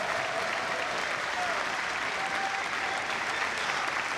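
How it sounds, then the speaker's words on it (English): Dense, steady crowd applause for Nigel McGuinness at a Ring of Honor wrestling event, a continuous wash of many hands clapping at even loudness throughout, with no break. "Big round of applause for Nigel McGuinness for everything he's done."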